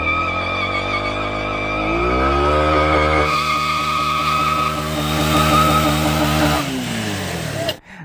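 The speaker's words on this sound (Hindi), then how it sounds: "देखो बर्नआउट दे दे के क्या कर दिया मैंने" A Hero XPulse 200 motorcycle holds high revs during a burnout, its engine droning steadily while the rear tyre squeals and skids loudly, the pitch rising midway before the sound cuts off abruptly.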